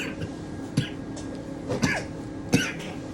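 A person gives a few short, sharp coughs, three distinct bursts spaced about a second apart, close to the microphone over a low background murmur.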